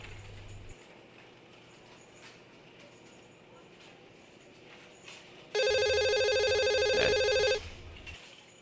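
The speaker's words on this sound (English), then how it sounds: "Mr. Sharma, the day this phone is installed, it has created more problems than solutions" An installed office telephone rings loudly in one sustained electronic burst of about two seconds, standing out clearly over quiet room noise.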